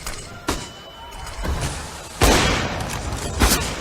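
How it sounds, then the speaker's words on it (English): Gunfire in a CS:GO World Championship 2016 semi-final between Denmark and Argentina: several sharp, booming shots ring out about a second apart. The loudest blast comes midway, trailing into a lingering rumble, and a commentator's voice sits faintly underneath. "Johnny Boy takes the head clean off of Cadian with a swift AWP shot"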